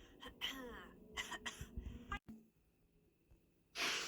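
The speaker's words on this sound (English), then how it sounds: "It all started with a simple cough." A person clears their throat and coughs a few times up close, followed by a quiet pause and a final breathy burst.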